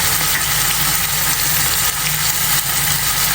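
Tomatoes frying in a hot pan with a little salt, a loud, steady close-up sizzle with no pauses, no talk.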